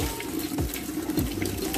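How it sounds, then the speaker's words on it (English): Tap water runs into a container at an outdoor sink, a steady close splashing gush with bubbling pulses. "I just filled the container halfway with water"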